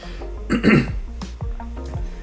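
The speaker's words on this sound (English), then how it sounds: "I'm coughing again" A person coughs and clears their throat up close, one harsh burst followed by a few shorter, rougher coughs.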